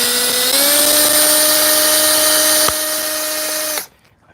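A power drill runs at a steady, slowly held speed while backing screws out of a fence, its whine loud and continuous for nearly four seconds before cutting off abruptly.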